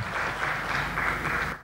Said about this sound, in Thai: ขอให้เราปรบมือต้อนรับกับวิทยากรทุกท่านด้วยครับ